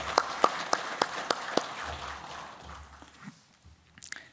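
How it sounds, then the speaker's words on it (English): A small gathering at a Papua New Guinea chamber closing session offers brief applause, a handful of sharp, close claps in a loose rhythm that fade within two seconds, followed by quiet rustling and a few scattered claps. "So a round of applause to Anthony and everybody else involved."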